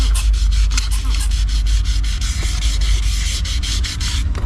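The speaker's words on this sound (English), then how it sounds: "I'm just taking some 800 sandpaper and just wet sanding it really nice" Rhythmic back-and-forth scrubbing of 800-grit wet sandpaper on painted fiberglass of a jet ski, repeated strokes close up, steady and fairly loud.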